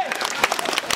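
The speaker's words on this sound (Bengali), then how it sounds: "হাততালি হবে, সবাই হাততালি হবে" Audience clapping after school prize places are announced, a short burst of scattered applause from a crowd, with a voice over it.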